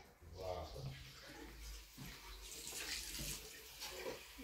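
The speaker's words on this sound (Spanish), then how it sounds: "¿Estás cambiando el agua, Óscar?" Water running during a water change, a faint steady splashing stream heard under people talking nearby.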